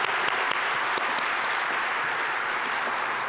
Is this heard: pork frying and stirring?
no